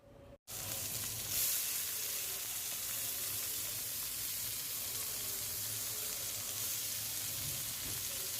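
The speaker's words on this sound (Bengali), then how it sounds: "সামান্যতম সরিষার তেল দিয়ে ভেজে নিচ্ছি" Chilies fry in mustard oil with a loud, close sizzle that cuts in after a brief silent gap at the start and then crackles and hisses steadily, with no voices.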